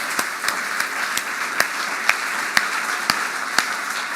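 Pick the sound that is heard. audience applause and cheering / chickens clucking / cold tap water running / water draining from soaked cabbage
audience applause and cheering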